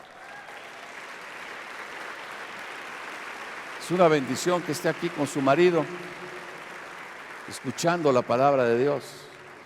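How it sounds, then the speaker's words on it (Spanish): A church congregation gives steady applause during a Sunday service, a soft, continuous patter of clapping that runs throughout the clip while a pastor speaks over it in two bursts. "yo creo que le des un aplauso a mi suegra"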